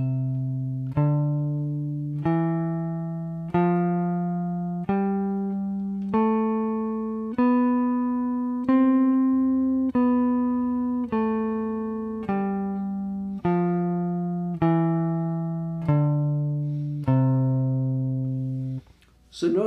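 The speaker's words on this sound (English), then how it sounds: "So if I'm playing a simple major scale, for example, I'll pick very gently." Gently picked notes of a simple major scale, each clear pitched note struck evenly about once per second, rising then falling, close and alone with no talking.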